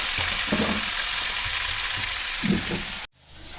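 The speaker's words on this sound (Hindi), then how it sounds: "ये पनीर फ्राई कर रही थी मम्मी सब्जी के लिए।" Paneer sizzles steadily in a hot pan for a home curry, with a few stirring scrapes over the hiss before it cuts off abruptly near the end.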